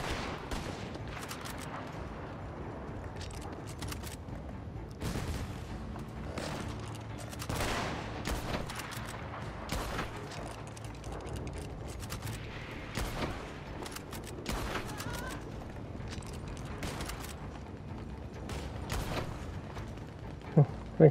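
In Call to Arms, bursts of gunfire pop and rattle again and again across a long stretch. Some shots sound close and sharp and others more distant, with someone talking over parts of it.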